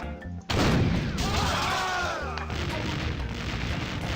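Cannon fire in the pirate adventure game The Curse of Monkey Island: a sudden loud boom with a crashing, rumbling tail, then sustained noisy clatter and debris-like sound under faint game voices.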